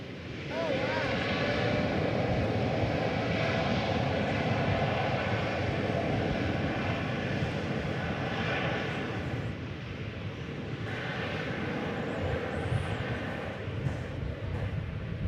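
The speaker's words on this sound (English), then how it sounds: "Here goes the Dreamliner off to Honolulu" A Boeing 787 Dreamliner departs DFW Airport for Honolulu, its engines giving a steady, fairly distant roar that holds throughout, with voices talking over it.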